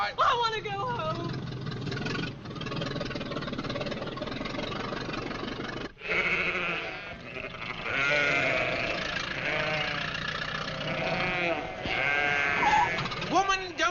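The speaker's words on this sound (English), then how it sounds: "will you kindly get those sheep out of here?" A flock of sheep bleats on a country road during a 1950s vintage car race, the calls layered over an idling engine while people talk and shout throughout.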